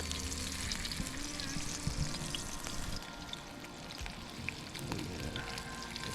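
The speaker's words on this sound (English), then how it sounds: "Just dump the coconut oil in the pan. Got it rendering out. All right, now that it's sizzling, we can go in with our fish" Trout fries in coconut oil in a pan at a backpacking camp in the mountains, giving a quiet, continuous sizzle and crackle with small pops throughout and no talking.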